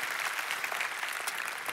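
An audience at a sermon-style talk applauds, a dense, even wash of many hands clapping at once that holds steady for the whole stretch.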